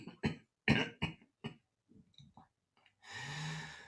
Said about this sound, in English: try to cough like an old man, like to really get the last bit